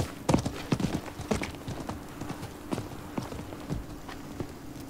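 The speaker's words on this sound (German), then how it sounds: "Das war das Pferd des Händlers." Hooves of a merchant's horse clip-clop in the game Diablo 4, a run of distinct, fairly faint steps in an uneven rhythm with a few sharper strikes early on.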